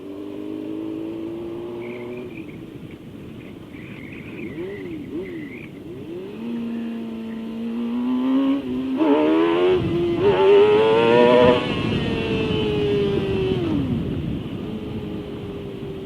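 A motorcycle rides along a road and slows into a turn, its engine droning steadily, then rising in pitch and growing louder as it revs up and accelerates before settling back to a steady cruise, with no talking.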